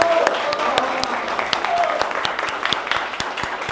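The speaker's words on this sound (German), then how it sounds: "Einmal Applaus" A classroom of students applauds a newly chosen class representative, a close burst of sharp, uneven hand claps that rises and gradually thins out, with voices mixed in.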